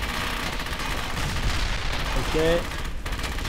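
Sustained, dense gunfire rattles through a battle in Brothers In Arms: Hell's Highway, with a tank cannon among the noise, loud and continuous, while someone speaks briefly over it.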